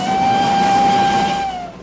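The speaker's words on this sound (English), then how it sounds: "a seldom used, almost one-of-a-kind steam-powered snowblower" A rare steam-powered snowblower from the 1920s lets out a loud, steady whistling tone over a hissing, rumbling background, holding for over a second before tapering off.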